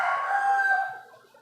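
A rooster crows once nearby, a loud drawn-out call that tapers off at the end.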